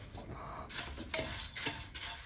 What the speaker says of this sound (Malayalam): കുറച്ച് സമയം കൂടെ നമുക്കൊന്ന് ഇളക്കി കൊടുക്കാം